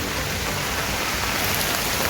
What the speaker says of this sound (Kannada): ಜೋರು ಮಳೆ ಬರೋದ್ರಿಂದ ತೆಗಿಲಿಕ್ಕೆ ಆಗ್ತಾ ಇಲ್ಲ ವಿಡಿಯೋ.